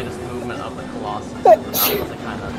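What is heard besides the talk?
person sneezing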